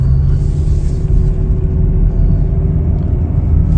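Loud, steady engine rumble and road noise inside a 2021 Nissan Sentra SV pulling away under acceleration, heard close from the cabin with no talk.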